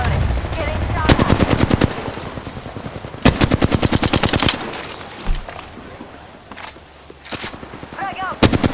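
Apex Legends gunfire: rapid automatic bursts crackle in fast, close volleys, several long strings separated by pauses, with short bits of game voice lines between them.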